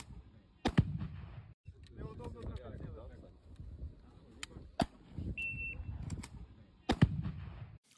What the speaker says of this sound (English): Ukrainian operators shared a video of the Defender being fired at a range